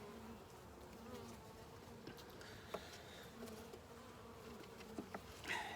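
Honey bees buzz in a steady, dense drone around an open hive with new comb, with a few louder close passes toward the end.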